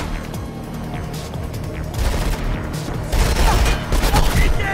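Enemies firing at the player in the video game Mirror's Edge: dense, rattling gunfire and impacts that build louder over a few seconds within a busy, noisy game mix.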